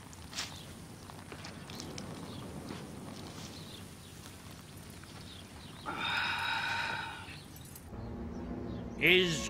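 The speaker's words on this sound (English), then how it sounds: "Set your horse, Zevon." Hooves clip-clop amid shuffling and jangling, then a horse neighs loudly, followed by a second whinny near the end; voices murmur in the background.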